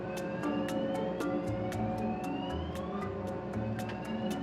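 Sirens wail and rise in the distance over a steady background rumble, with sharp repeated clicks ticking throughout.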